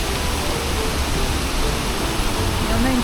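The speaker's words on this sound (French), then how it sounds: "une petite cascade" Steady rushing hiss of a small waterfall in Quebec, constant and fairly close, with no break in the flow and a faint voice briefly over it near the end.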